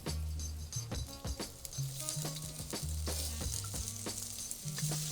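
Carrots, onions, garlic and peas stir-frying in a seasoned wok for shrimp fried rice, a hissing sizzle broken by repeated clanks and scrapes of a spatula against the metal, fairly close, with no speech.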